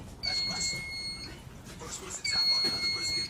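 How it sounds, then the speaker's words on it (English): A smoke detector signalling a trouble fault gives two high, thin electronic tones, each held about a second, separated by a pause, fairly faint under indoor room noise. "problem with my smoke detector"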